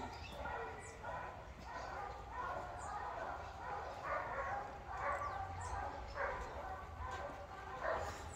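A Chow Chow dog socializing with puppies gives repeated yips and short barks, close by and moderately loud, mixed with people talking over the scene.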